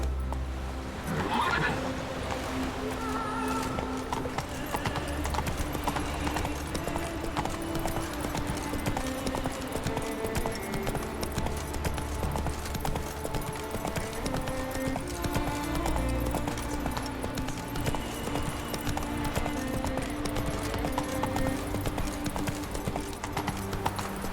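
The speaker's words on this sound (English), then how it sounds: "Run, Roach." A horse gallops in The Witcher 3 video game, its hooves drumming in a fast, continuous clip-clop rhythm over a layered game soundtrack, with a brief whinny near the start.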